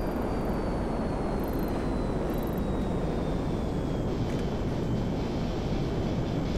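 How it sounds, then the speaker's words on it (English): A jet aircraft engine in the video game GTA Online gives a steady, loud, broadband roar that holds constant throughout, with a faint high whine sliding slowly downward. "That's exactly the sound his jet made."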